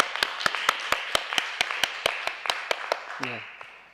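A church congregation claps together at the close of a Sunday worship service, steady rhythmic applause of many hands over a few seconds, with a brief low voice at the end.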